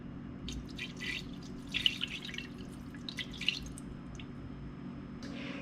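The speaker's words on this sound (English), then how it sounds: "we are going to pour this into the bottom of the Instant Pot" A cup of tap water pours into the bottom of an Instant Pot with faint, soft splashes and drips against a low background hum. Small peaks of trickling show near the middle of the pour.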